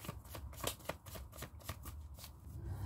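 Tarot cards being shuffled by hand, a steady run of crisp papery riffles and flicks repeating close up for a few seconds with no talking.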